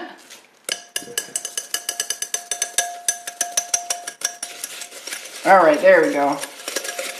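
A whisk clatters rapidly against a bowl as a creamy soap mixture is beaten, a fast run of metallic ticks lasting several seconds before a voice briefly speaks.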